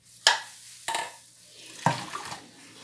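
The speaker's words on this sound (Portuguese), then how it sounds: "Agora eu vou tirar um pouco dessa água." Water poured off from a pot into a kitchen sink during dishwashing and lunch preparation, coming as three separate splashing pours, each starting sharply and trailing off, close and moderately loud with no talking.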